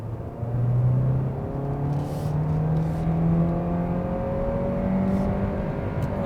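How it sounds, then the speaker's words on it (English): A 2021 Kia Optima in sport drive mode accelerates with a steady, smooth engine drone whose tones climb gradually in pitch, heard from inside the cabin with no talking. "Why don't we put the car into sports and drive?"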